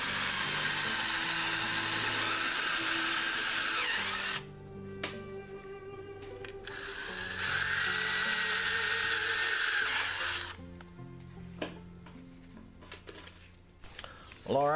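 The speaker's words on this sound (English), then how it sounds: "I'm going to go ahead and drill and fix the rivets in position" A power drill bores rivet holes in a Kydex knife sheath for a neck knife, several close high-pitched whirring bursts separated by short pauses and clicks, with motor pitch rising and falling between runs.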